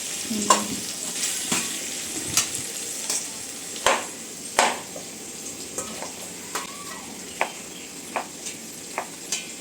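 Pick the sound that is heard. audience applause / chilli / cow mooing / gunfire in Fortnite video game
chilli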